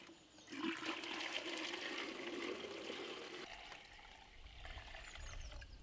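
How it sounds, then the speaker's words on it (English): Water pours and gushes into a cottage water system, a continuous rushing flow that eases into a softer trickle partway through, heard alone. "We are pouring in more water."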